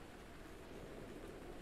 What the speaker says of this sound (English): Son of a bitch, rain.